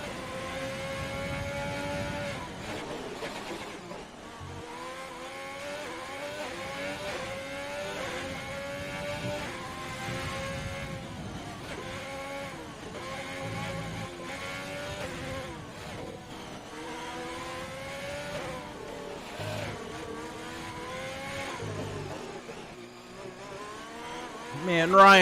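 Formula 1 cars in a racing video game, Ferrari and Haas, whine past with rising and falling engine pitch through gear shifts, steady and moderately loud, while commentators talk over the engines throughout.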